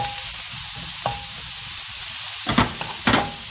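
Garlic and dried pollack strips stir-fry in hot oil with a steady, soft sizzle, broken by a few sharper clatters of stirring near the end.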